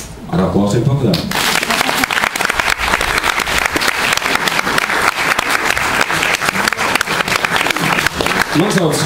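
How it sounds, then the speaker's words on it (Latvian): An audience at a conference breaks into sustained applause, dense clapping rising quickly and holding steady and loud for several seconds, with a voice speaking briefly before and as it begins. "Ar aplausiem papildām."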